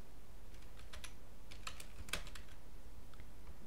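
Name and email being typed on a computer keyboard: a quiet run of light, irregular key clicks over a faint steady background hum, with no voices.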